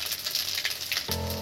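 Panch phoron spices and a bay leaf sizzle in hot oil for lentil dal with bottle gourd, a steady close crackle that turns denser and fuller near the end.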